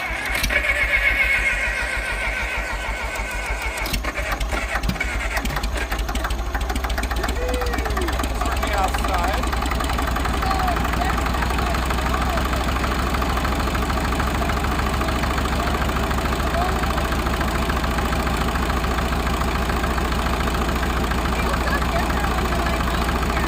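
A 1951 International TD9 crawler's gas/diesel engine runs steadily after a brief rough start, a loud continuous low rumble and clatter close by, with voices talking over it early on.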